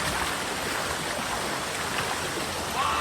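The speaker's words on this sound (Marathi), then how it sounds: "वॉटरफॉल छोटा आहे तिथे तर आम्ही डायरेक्ट त्याची खालती" A small waterfall near Navi Mumbai pours into a pool, producing a dense, steady rushing hiss of flowing water that is close and constant throughout, with no voices.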